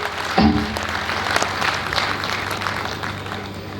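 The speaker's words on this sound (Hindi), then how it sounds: "पूरा सदन अपने हाथ उठाकर जोरदार तालियां बजाकर मां सरस्वती का अभिवादन करे।" An audience in a hall breaks into applause to honour Goddess Saraswati after an invocation. The broadband clapping is steady and moderately loud, carrying on through the whole stretch, with a brief tonal sound near the start.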